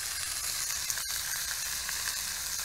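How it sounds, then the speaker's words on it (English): Slices of pork belly for okonomiyaki sizzle in a pan over a gas burner, a steady close hiss and crackle running throughout with one brief dip, and no talking. "Now let it simmer for a while."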